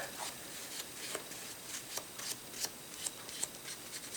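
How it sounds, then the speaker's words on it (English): A LEGO brick being rubbed with paint thinner to lift sticker residue, producing faint, close, repeated short scrubbing strokes with light squeaks, steady and quiet with no talking. "I'm just going to use some paint thinner to dilute it and get that off there"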